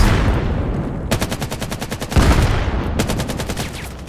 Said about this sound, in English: A lot of shots back and forth across the smoke